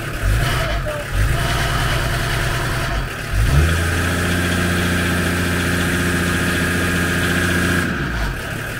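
A high-mileage Volvo five-cylinder engine with no oil pressure, at 541,000 km, starting up and settling into a steady, loud idle after a brief cranking stumble, with a voice briefly heard.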